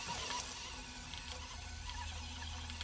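An edge sander works along the border of a pine parquet floor, levelling the blocks the main machine cannot reach, giving a steady, close, high-pitched whirring grind that holds even throughout.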